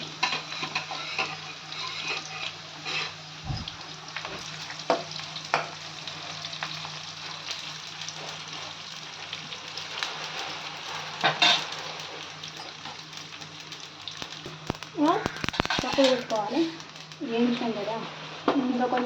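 Stuffed eggplant curry (gutti vankaya) frying in a pan, a steady soft sizzle running throughout with occasional utensil clinks and stirring scrapes, louder stirring near the end; a voice talks intermittently over it.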